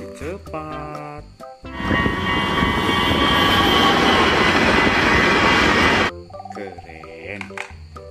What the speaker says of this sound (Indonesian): Kereta api cepat.